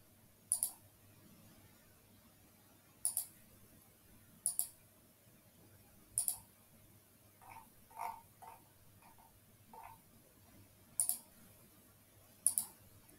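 Crisp computer mouse clicks, about seven sharp and evenly spaced single clicks set against a near-silent room, with a few softer taps in between.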